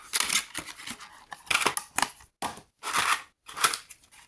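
Plastic packaging of a Halloween costume kit being opened, close crinkling and tearing in short irregular bursts separated by brief pauses.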